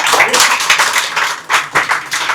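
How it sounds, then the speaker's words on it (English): At a children's creative workshop event, an audience claps in a welcome, a close, fairly loud patter of hands that surges and dips in uneven waves. "The audience, the welcome would become even more special with your applause."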